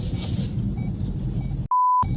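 A car's seatbelt warning sounds as one steady electronic beep, about a third of a second long, after a stretch of low rumbling road noise inside the cabin on a seaside road.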